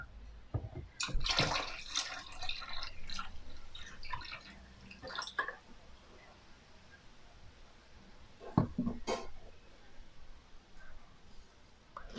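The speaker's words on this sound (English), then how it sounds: "Pour half of the bottle slowly into drain." Drain cleaner poured slowly into the drain of a Bosch 800 series dishwasher gives faint, close trickling and dripping, with irregular gurgles and splashes that come in bursts and then quiet down.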